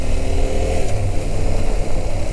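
Yamaha T700 adventure motorcycle running steadily along a forest dirt track, its engine droning loud and close throughout with continuous low rumble and wind noise, no speech.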